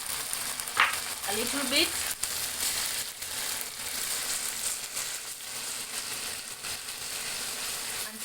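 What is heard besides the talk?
garlic frying in hot oil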